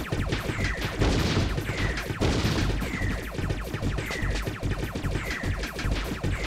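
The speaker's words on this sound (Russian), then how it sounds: "Зачем я в них стреляю?" Dense, continuous gunfire and crashing impacts from shooting at enemies in the PSOne game X2: No Relief, loud and steady throughout with a repeating chirping tone over the din.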